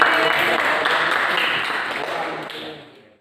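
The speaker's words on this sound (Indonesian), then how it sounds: "Iya, tepuk tangan untuk temannya." A classroom of students applauding a classmate: dense, fairly loud clapping that carries steadily and then fades out toward the end.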